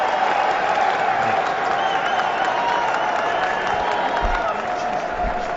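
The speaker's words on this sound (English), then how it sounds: "Applause from the chairman of selectors." Crowd applause at a cricket Test match between England and India, a broad steady wash of clapping from a large stadium audience, sustained throughout and heard at a distance.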